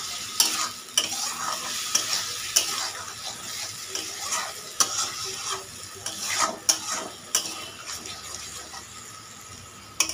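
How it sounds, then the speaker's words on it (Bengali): Spice paste is stirred in a kadai after a splash of water while cooking a thin rui fish curry with bottle gourd, giving a steady wet sizzle broken by repeated scraping stir strokes, close and continuous. "জল দিয়ে ভালো মতো একটু নেড়ে নিচ্ছি"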